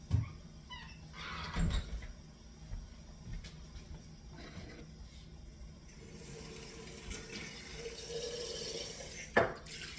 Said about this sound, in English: I'm gonna have to add some water in